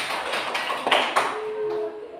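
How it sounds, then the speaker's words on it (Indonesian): A classroom gives a short burst of applause for a student, brief patters of clapping over a noisy room, fading out after about two seconds. "Ya, tepuk tangan untuk Siva ya."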